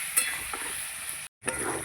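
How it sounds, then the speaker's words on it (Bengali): Potatoes and onions with a little turmeric frying in a pan, a steady close sizzle with a few stirring scrapes, briefly cut to silence before the hiss resumes. "অল্প একটু হলুদ, আলু আর পেঁয়াজটা খুব ভালো করে ভেজে নেব"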